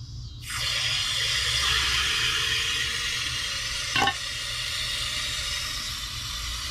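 Water surges back into household pipes as the supply is eased on after a leak repair, a steady broadband rushing hiss that starts abruptly and holds, with one brief knock partway through.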